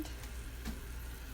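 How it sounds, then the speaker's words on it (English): Tofu frying in a pan, a faint, steady sizzle with soft stirring scrapes running throughout at low level, with no voices. "I'm gonna go ahead and put our tofu in there."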